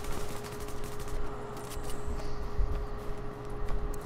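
Sniper gunfire in The Division crackles as dense, irregular shots and bursts over a constant rumbling game backdrop, with no talking.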